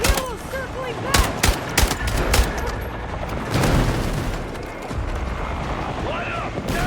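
Sustained automatic gunfire in a Battlefield 6 night raid battle against a circling helicopter, loud and close with rapid bursts, booms and a shouting voice over the din.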